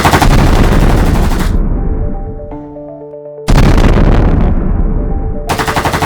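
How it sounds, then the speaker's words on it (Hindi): Loud, dense bursts of automatic gunfire, rapid and continuous, stopping briefly while a low tone rings out, then resuming just as heavily. "दोनों तरफ से गोलियां चलने लगीं"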